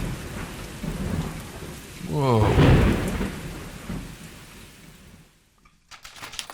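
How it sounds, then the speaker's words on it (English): Thunderstorm sound effect with a loud rolling thunder clap over steady heavy rain, rising to a peak midway and then fading out, with a brief exclaiming voice and speech over the storm. "It was a dark and stormy night."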